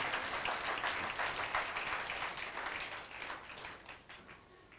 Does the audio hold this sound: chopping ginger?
no